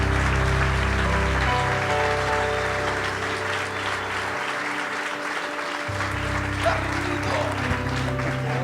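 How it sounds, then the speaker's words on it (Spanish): A church congregation applauds steadily, with dense clapping and cheering throughout while a voice carries on over it and music holds underneath. "Damos un fuerte aplauso."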